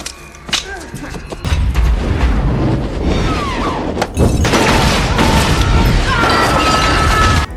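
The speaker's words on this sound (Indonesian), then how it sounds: "terjadilah baku tembak di dalam Indomaret" Gunfire shootout from a horror film set inside a convenience store, with dense volleys of loud shots, booms and crashes in rapid bursts, a short lull and then a renewed heavy barrage, with brief voices mixed in.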